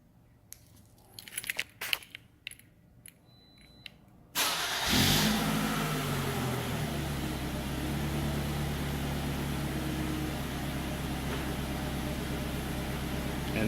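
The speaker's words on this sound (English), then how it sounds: "So now we're ready to test our starter." Toyota Corolla started with a remote starter: a few sharp clicks, then the engine cranks, catches and settles into a steady, close idle that runs to the end.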